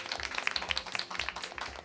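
An audience at a live event gives a round of applause, quick overlapping hand claps forming a steady patter, moderately close and without talk.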